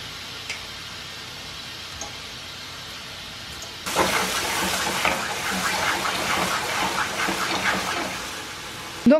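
A smart pressure cooker making rice vents steam to regulate the pressure inside its pot. Soft ticks come first, then a steady, fairly loud hiss of escaping steam lasts about five seconds. Nobody talks.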